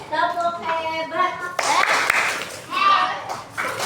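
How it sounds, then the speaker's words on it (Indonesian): Children clap along in an Indonesian classroom clap chant, with bursts of hand claps mixed into loud speech and sung voices from a teacher and pupils, the clapping rising in the middle before the voices return. "Tepuk hebat."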